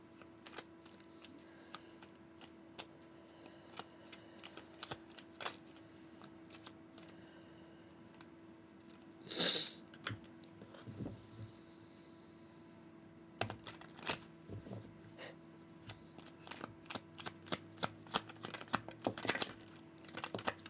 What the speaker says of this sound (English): I'll shuffle the cards out